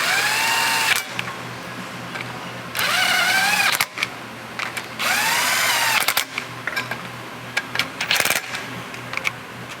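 A small power impact gun runs the hand-started bolts snug on a Pro XP Stage 2 clutch install, three loud sustained whirring bursts with rising-and-falling pitch, separated by clicks and clanks of tools being handled.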